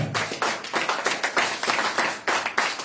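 Congregation at a church service clapping hands to acclaim the Lord, a fast and steady rhythm of many hands applauding together, loud and close, with no pauses.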